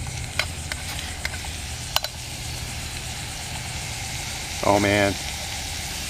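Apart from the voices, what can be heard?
bacon sizzling in a canteen cup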